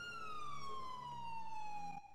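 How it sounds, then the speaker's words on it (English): A police car siren wails steadily in a single long descending tone, moderately near and dominant, cutting off abruptly near the end with no talk over it. "Why is there a police car on the ridge?"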